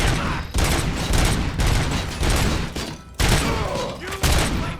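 Heavy gunfire from the RoboCop Rogue City video game, continuous loud bursts and volleys with brief gaps, filling the whole stretch.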